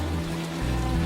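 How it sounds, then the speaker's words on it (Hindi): Heavy rain falls at night in a steady, dense hiss, continuous and close throughout the short stretch. "उस रात फिर तेज बारिश शुरू हुई।"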